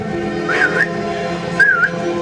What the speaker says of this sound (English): the gypsy princess put her fingers to her lips and she whistled